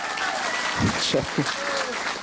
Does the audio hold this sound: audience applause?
yes